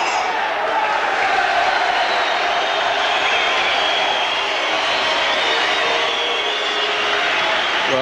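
A boxing crowd of around 3,000 inside the Ice Rink in Cardiff roars continuously, a broad sustained wash of cheering and noise that fills the hall without letup.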